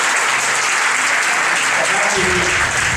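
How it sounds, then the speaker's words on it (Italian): A crowd at the Apulia Best Company 2019 award ceremony in Andria claps continuously and loudly in a dense, even wall of applause. Voices blend faintly into the noise. "Io volevo fare un applauso"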